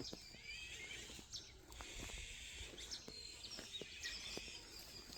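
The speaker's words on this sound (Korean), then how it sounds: "아주 새소리가 창합니다." Birds chirp and sing faintly in the distance, scattered short calls over a quiet outdoor background.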